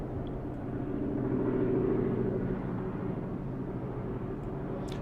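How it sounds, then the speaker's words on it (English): Helicopter passing overhead at a distance, a steady low rotor rumble that swells slightly and then holds, heard alone with no talking. "Ooh, I hear a helicopter."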